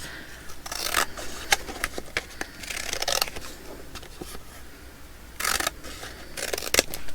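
Scissors cut out a paper journal card for ephemera crafting, a run of close, crisp snips and paper rustles with a few louder cutting bursts, no talk.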